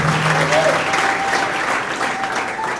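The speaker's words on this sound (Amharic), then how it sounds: "ለእግዚአብሔር ክብር አጨብጭቡለት" A church congregation claps together in praise to God during a prophecy service, a dense and loud burst of applause that continues steadily throughout, with a voice speaking over it.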